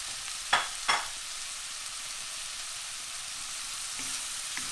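Beef caldereta sizzling over lowered heat in a pan, a steady hiss of frying with two sharp scraping stir strokes near the start and light utensil touches later, close and alone.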